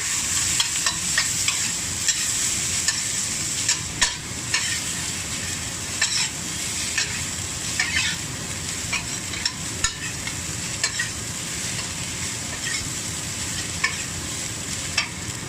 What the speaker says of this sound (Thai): โอเคแล้วก็ผัดเลย